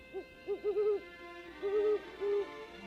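An owl hoots at night in a series of soft, rounded calls, a few short hoots followed by longer paired ones, clear and fairly close against a quiet background.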